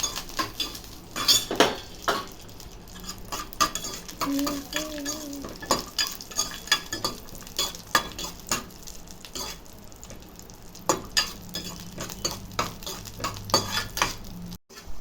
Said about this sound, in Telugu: జీడిపప్పు వేయించి పెట్టుకుందాం దూరంగా వేయించుకోవాలండి జీడిపప్పు